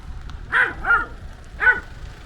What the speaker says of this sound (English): Oh, puppy!